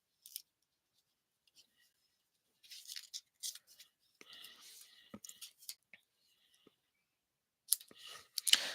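A pair of Cutter Bee scissors snips through card in short, crisp clicking cuts, grouped in bursts with pauses between, close and fairly quiet, with faint whispery handling noise.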